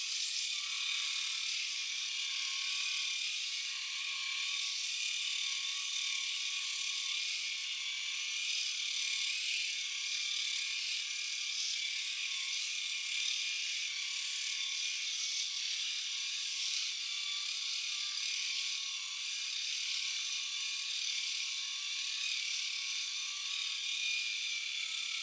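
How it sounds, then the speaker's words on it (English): A Philips 5000 series electric shaver runs against facial skin with a steady, close, high-pitched whirring buzz of spinning rotary blades, unbroken for the whole stretch with no voices. "Let's take this Philips shaver and try to shave over the places where I shaved with Panasonic."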